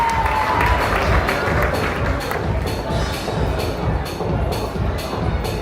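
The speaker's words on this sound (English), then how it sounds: "Big round of applause as they just cut their cake." Wedding reception guests applaud after the couple cuts their cake: a steady, sustained wash of crowd clapping mixed with cheering and background chatter.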